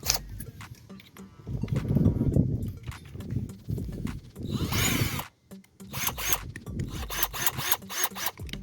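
A power drill boring a 3/32-inch hole into part of an umbrella, with a rough buzzing whir that rises and falls over several seconds, close up, and a short gap before it starts again.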